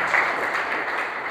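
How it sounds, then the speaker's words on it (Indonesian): A congregation applauds during a church sermon, producing a short, steady burst of dense clapping at fairly high level with no speech over it. "Beri tepuk tangan terbaik untuk"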